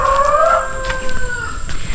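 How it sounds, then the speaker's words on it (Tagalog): A rooster crows on a family farm among the farm animals, one clear, drawn-out call that rises and then trails off, with quieter farmyard background and no talking. "our dad is gonna feed some ducks or chickens."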